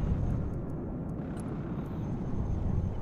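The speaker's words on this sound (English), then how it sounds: "CH-53 heavy lift helicopter here." A CH-53 heavy lift helicopter in a combat video game produces a steady, loud, dense engine and rotor roar that runs without a break throughout, with no voices.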